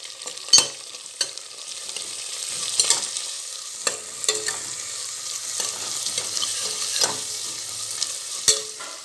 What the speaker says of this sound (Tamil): இப்போது வெங்காயம் நல்லா வதப்பட்டுருச்சு